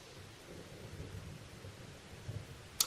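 A storm at sea with low, distant thunder rumbling steadily beneath a wash of rain, followed by a brief sharp crackle at the very end.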